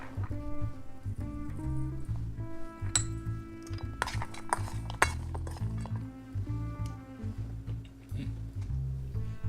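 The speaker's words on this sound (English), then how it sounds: "now I'm going to mix in with the walnuts 3 tablespoons of roasted walnut oil and a little bit of salt" Walnuts stirred with roasted walnut oil and salt in a bowl, bright irregular clinks and taps of a utensil against the bowl, close and fairly quiet, with no talking.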